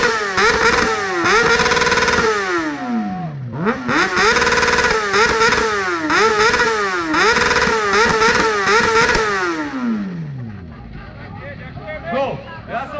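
A motorcycle at a bike rally revs hard and repeatedly, its engine pitch rising and falling in several loud sweeping bursts before dropping to a lower idle, with crowd chatter and voices around it.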